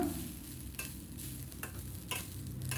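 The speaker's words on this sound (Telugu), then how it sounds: "ఈ పక్కన ఆరబెట్టుకున్న రైస్ వేసి అంత కలిపేసుకోవటమేను" Cooked rice is stirred into dried coconut in a pan, with a spoon scraping and tossing in several soft, irregular strokes over a faint sizzle.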